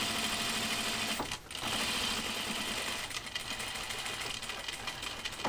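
Sewing machine stitching through heavy jeans denim, a steady fast mechanical whir that runs almost the whole time and dips briefly once, with no talk.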